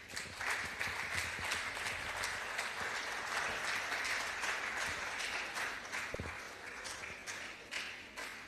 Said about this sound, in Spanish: Vamos a recibirle con fuertes aplausos.